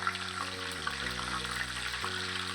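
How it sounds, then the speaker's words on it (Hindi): Sun-dried lentil dumplings (wadiyan) fry gently in a pan over low heat, giving a soft steady sizzle with a faint hum underneath, close and low in level. "इसको करेंगे हम हल्की आंच पे फ्राई"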